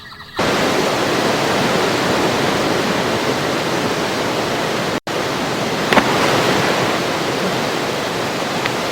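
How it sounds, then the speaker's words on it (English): A great waterfall roars as a dense, steady, loud rush of falling water, broken by a brief dropout midway, with no voices. "By Horus! The great waterfall!"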